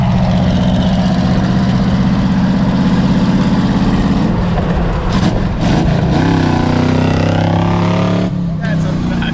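1974 Jeep CJ5 engine running loud and rough, a heavy low rumble that revs and shifts partway through, with someone talking over it.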